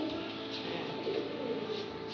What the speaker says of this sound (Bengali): কত পায়রা রয়েছে